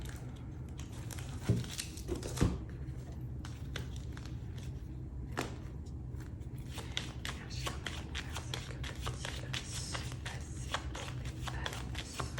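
A 32-card deck being shuffled, with repeated crisp riffling and flicking of cards close by, steady throughout with a couple of louder snaps near the start and no talking.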